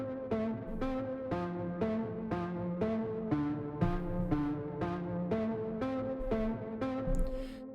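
Music runs through a clip distortion plugin with the drive turned up, giving a steady repeating beat with gritty, saturated tones heard alone.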